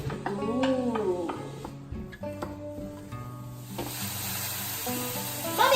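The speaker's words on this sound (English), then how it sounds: "And then you just go ahead and just put your onions to start frying." Onions fry in a pan on the stove with a soft, continuous sizzle under background music, the hiss growing louder toward the end.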